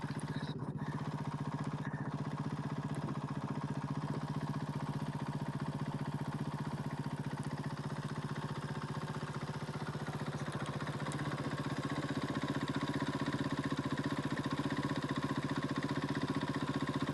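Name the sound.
Monster Energy Honda rally motorcycle engine idling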